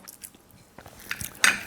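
Crunchy breaded veal cutlet is bitten and chewed up close, with soft moist chewing followed by sharp crackling crunches that grow louder toward the end.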